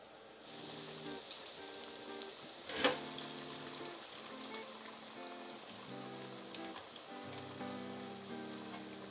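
Five crappie fillets sizzle in hot grease in a fryer, a steady close crackling hiss with one sharp pop near the start, with no talking.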